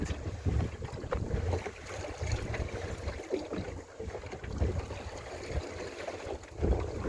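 Sailboat racing in the Camaret regatta on a fairly rough sea, with steady roaring wind buffeting the microphone over rushing, slapping water against the hull throughout.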